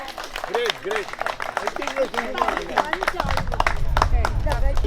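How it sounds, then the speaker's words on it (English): Guests at a Haldi and Sangeet wedding celebration clap, scattered at first and then building into denser applause, while voices and chatter carry over it throughout. "Can you all have a round of applause for all of us?"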